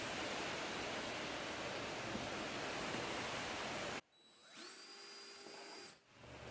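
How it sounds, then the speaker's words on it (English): A power drill bores a hole in a boat hull while a rudder kit is fitted. After a steady broadband whir, a brief, close motor whine with a rising pitch starts up and then stops. "drill that hole right there. So that's what I'm going to do."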